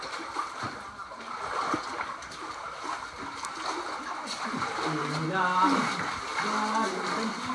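Water splashing and trickling as someone crawls through a flooded passage in Gua Wang Burma cave, Perlis, with continuous low sloshing close by and voices murmuring throughout.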